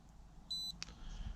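A Triggercam trail camera switching on gives a single short, high electronic beep lasting about a quarter second, followed by a faint click, in a quiet room.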